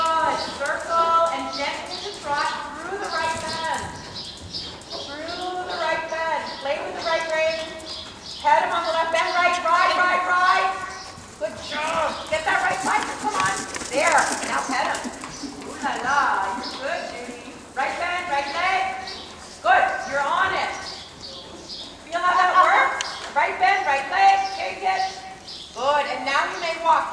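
A horse trots at a riding clinic, its steady clip-clop hoofbeats running under an instructor's near-constant spoken coaching.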